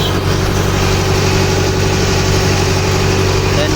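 A new Kubota DC 99G combine harvester engine runs at a steady idle, a continuous low diesel rumble with constant vibration, close and loud throughout with no break.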